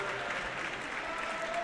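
Brief burst of dense applause from home fans at a volleyball match, steady clapping from a crowd filling the arena for under two seconds.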